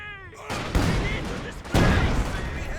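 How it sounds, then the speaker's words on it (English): A ZiS gun artillery barrage lands in the Company of Heroes 2 strategy game, sending several heavy, booming, broadband blasts that overlap in a rough, sustained rumble. "Big damage from the Zis barrage."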